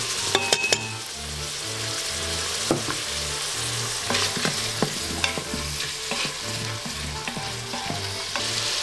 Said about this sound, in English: So let's add a little garlic to these sauteing mushrooms.